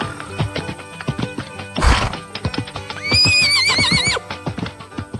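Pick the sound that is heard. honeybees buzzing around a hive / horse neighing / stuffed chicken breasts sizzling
horse neighing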